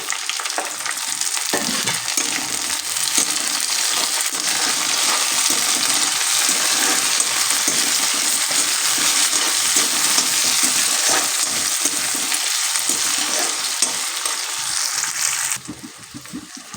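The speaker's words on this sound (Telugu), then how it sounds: "దీని తర్వాత టమాటా ముక్కలు అయితే వేసుకుంటున్నాను" Tomato pieces hit a hot pan and fry with a loud, steady sizzle, stirred now and then, in a dish of dried fish and okra; the sizzle stays strong throughout and drops off sharply near the end.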